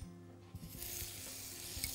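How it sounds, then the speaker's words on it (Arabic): Butter melting in a hot pan, a bright steady sizzle swelling up and holding while a spoon stirs it, close and fairly soft with a few scraping taps. "هقلب الزبده كده عشان ما تتحرقش معايا"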